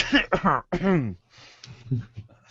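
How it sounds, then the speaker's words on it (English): A few harsh coughs and throat-clearing noises, close and abrupt, followed by quieter rough breaths and a short vocal sound. "it was while I was coughing"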